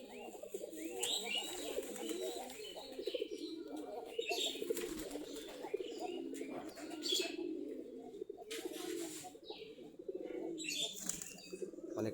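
Giribaz pigeons in a loft of about forty pairs give soft, repeated cooing with scattered chirps and occasional bursts of wing flapping, fairly faint and close.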